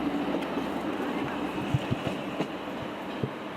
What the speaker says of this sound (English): So there's our train leaving.